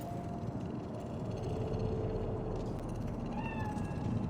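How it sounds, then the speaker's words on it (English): A cat in the video game Cyberpunk set in Night City meows several times over a dense, steady ambient city hum, the cries fairly clear, with no one talking. "It's a cat like any other."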